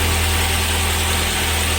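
A car engine idles steadily nearby, giving an even, continuous low hum with slight vibration and no talking.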